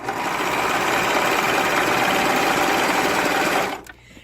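Sewing machine stitching along the hem edge of a girl's skirt, a fast, even mechanical whir running continuously for several seconds before abruptly stopping, close and loud with no talk.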